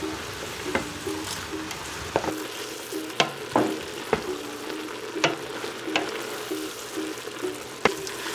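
Onions softening in a pot for French onion soup, a steady low sizzle with periodic sharp clicks of a spoon stirring against the pot.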